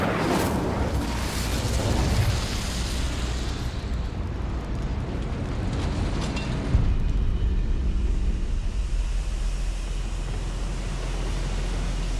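Incendio fire spell cast in Hogwarts Legacy, a loud roaring burst of flame that surges at the start and then settles into a sustained rushing, crackling blaze.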